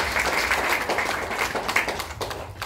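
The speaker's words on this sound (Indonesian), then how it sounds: "Tepuk tangan dong buat kita guys" Brief applause from an audience at a product presentation, a short burst of scattered clapping with a few sharper individual claps standing out.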